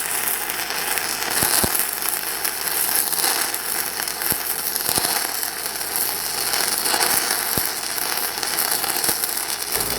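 Everlast Cyclone 262 stick welder burning a 6010 cellulose rod, a harsh, steady crackling and sizzling arc with occasional sharper pops, close and continuous for the whole stretch.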